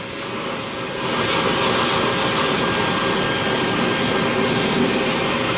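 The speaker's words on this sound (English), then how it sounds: "This one's called a bucket head wet dry vac power head." A bucket head wet/dry vac power head roars steadily up close, rising in pitch and loudness after a second as it sucks up cedar carving dust, a constant whooshing motor drone with no talking.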